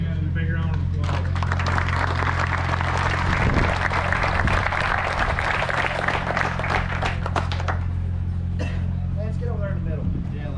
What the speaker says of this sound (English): So give these guys a big round of applause.